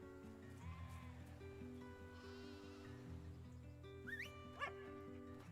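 Sheep bleat and a dog barks and yips in a video game trailer, with layered music underneath and the animal calls fairly close and clear.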